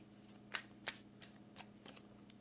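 Tarot cards are shuffled in a quick series of faint, crisp riffles and snaps, about half a dozen soft bursts close by with two slightly louder ones early on.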